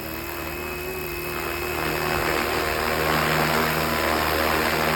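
A 450-size RC helicopter hovering in midair, modeled on the Airwolf with GPS, gives a steady whining rotor and motor drone with a constant high tonal hum that grows slightly louder partway through, heard alone without talk.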